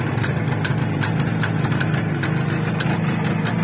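A cold IZh Jupiter 2K retro two-stroke motorcycle engine idles steadily, close and loud, with a rapid irregular popping exhaust beat over a low rumble.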